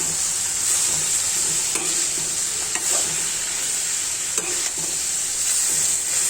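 Potatoes and bitter gourd sauté in a pan with a steady, close sizzle and repeated scraping strokes of a spatula stirring through the mixture.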